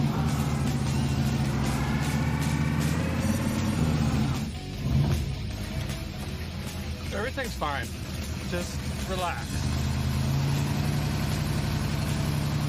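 A 1964 Chevrolet Bel Air engine runs steadily as the car is driven up a hill, a low continuous rumble that briefly dips midway, with someone talking over it.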